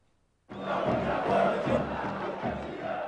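Corinthians football supporters in a stadium burst into a loud, massed chant after a moment of quiet, a roaring crowd shout with a rhythmic pulse that holds to the end.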